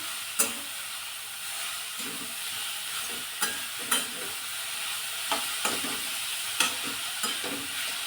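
Radish bhaji being stirred in a pan, with a steady soft sizzle broken by several sharp spoon scrapes and clinks against the pan, close and alone without any voice.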